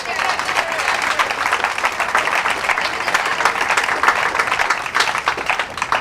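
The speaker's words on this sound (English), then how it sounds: "Let's give him a round of applause." A crowd at a county celebration gives a sustained round of applause for a local official, loud and dense clapping with some voices mixed in throughout.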